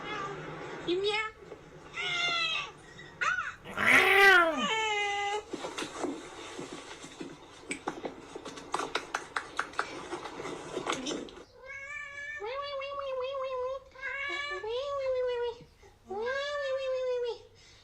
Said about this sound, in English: You meow.